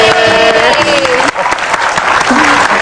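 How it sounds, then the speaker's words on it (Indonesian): Studio audience applause for a young TV-film actress on a talk show, loud and sustained with a crowd wash, a voice calling out over the clapping. "tepuk tangan kali"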